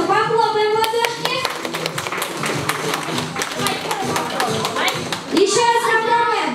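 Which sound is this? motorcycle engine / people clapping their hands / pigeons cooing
people clapping their hands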